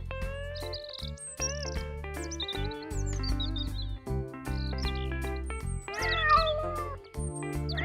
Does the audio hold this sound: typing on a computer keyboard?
no